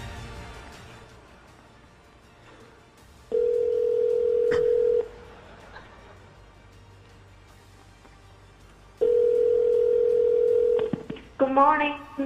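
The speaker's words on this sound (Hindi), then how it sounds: "स्टीव ने स्टारबक्स कंपनी को कॉल किया" Telephone dial tone sounds as a steady tone in two long stretches, followed by a brief quick run of dialing tones at the end, with faint background voices underneath.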